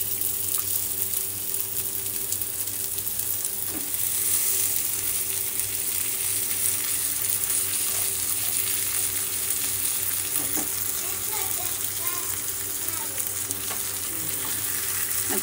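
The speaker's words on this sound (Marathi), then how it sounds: "आता याला मी फ्राय करून घेते हलकंसं" Stuffed brinjal fries in a pan, a steady close sizzle and crackle of oil running unbroken throughout, with occasional soft clicks of a utensil.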